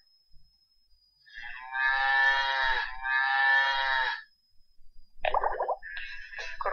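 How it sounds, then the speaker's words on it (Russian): A cow lows twice in long, full moos, close and fairly loud, followed by shorter, broken animal calls after a pause; no voices. "Корова."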